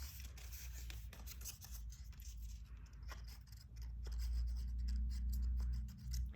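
Scissors snip through paper to cut out tree shapes for a children's art lesson, a steady run of close, quiet snipping and rustling over a low background hum.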